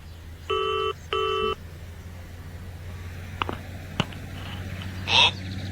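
Telephone sounds in a radio drama: two clear ring bursts, then faint dial clicks and tones, over a steady low background hum.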